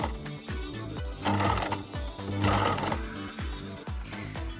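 A sewing machine fitted with a zipper foot stitches piping onto a cushion cover, giving a close, steady mechanical whir with rapid rhythmic needle thumps throughout.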